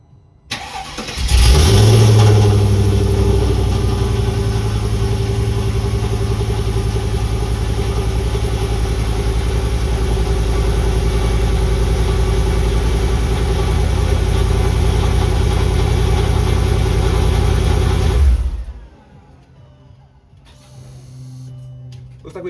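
A Mercedes S55 W220 with a fuel pump module fault cranks briefly and catches, then runs loud and steady at a close idle for about sixteen seconds before shutting off abruptly.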